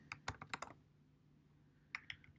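Code being typed on a computer keyboard during an iOS programming lesson: two short bursts of crisp, close key clicks separated by a quiet pause, no talking.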